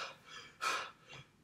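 A voice imitates rapid breathing as a heat stroke symptom: a few quick, breathy pants, the middle one a sharp louder gasp, close to the microphone.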